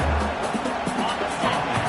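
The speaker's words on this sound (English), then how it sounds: "This crowd rising up, sensing that its defense needs some help." Stadium crowd in the College Football 26 video game, a broad steady roar of cheering rising behind the play, with a commentator talking over it.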